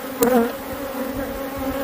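Honeybees on a hive frame holding pollen and emerging brood give off a steady, close buzzing hum, with a few louder wingbeat passes near the start.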